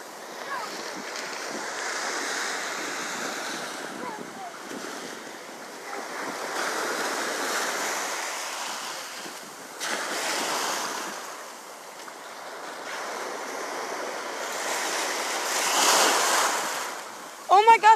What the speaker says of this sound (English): Big waves. Oh my gosh.